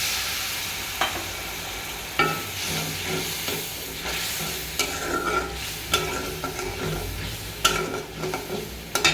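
Ground spices, among them coriander powder and cinnamon, fry in oil in a pan for a fish roe curry. A steady close sizzle runs throughout, with repeated scraping strokes of a spoon against the pan.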